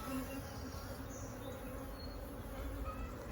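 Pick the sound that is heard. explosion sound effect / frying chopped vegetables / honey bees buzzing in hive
honey bees buzzing in hive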